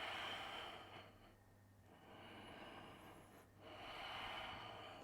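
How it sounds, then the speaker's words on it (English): Slow, long breaths during a yoga session, each drawn-out inhale or exhale a soft airy rush lasting a couple of seconds, close and fairly quiet, with a pause between them. "2 more long breaths."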